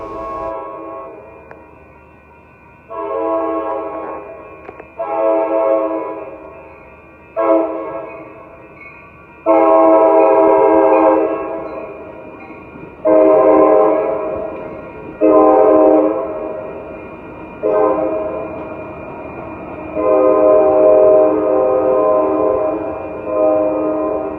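An Amtrak Capitol Corridor train passes through Oakland's Jackson Square, sounding its horn in a series of loud, drawn-out blasts with short gaps between them over a low rolling rumble.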